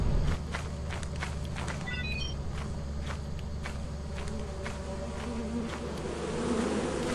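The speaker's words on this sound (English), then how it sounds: "Oh, oh, oh! Bees!" A steady electronic buzzing drone of circuit bees in Lethal Company, like a swarm of bees, continuous and fairly loud, with light tapping footsteps underneath.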